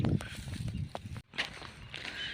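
Footsteps crunch and shuffle over rough ground at a walking pace, with a brief gap midway and a voice speaking over them.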